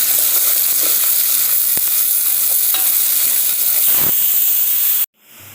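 Onions, small shallots and large onions, fry in a pan for chicken biryani until browned, giving a loud, steady sizzle and hiss with occasional stirring scrapes, ending abruptly near the close.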